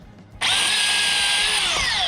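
A power drill whirs up suddenly and runs at a loud, steady high pitch near the listener during a large tree removal, with no talking over it.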